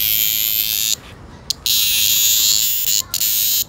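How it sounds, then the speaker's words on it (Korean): Mountain cicada held in a hand at night, giving a loud, close, continuous high buzz broken by a few brief pauses. "여기 갈라진 부분으로 얘가 울음소리를 새나오는 거예요."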